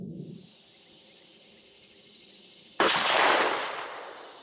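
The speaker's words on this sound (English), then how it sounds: "So let's head over here and take the shot and see what kind of a pattern it gives us." A Mossberg 500A 12-gauge shotgun with a 30-inch fixed full-choke barrel fires a Herter's 2-3/4-inch 1.5 oz #9 TSS shell outdoors: a single sharp blast after a quiet stretch of faint insect hum, then a decaying echo.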